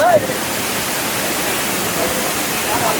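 Bomma Kida waterfall in Andhra Pradesh roars as a steady, dense wash of falling water, continuous and fairly loud throughout, with a faint voice at the start.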